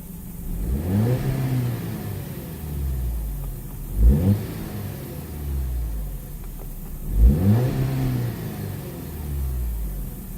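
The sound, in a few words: 2010 Audi A5 Cabriolet engine revving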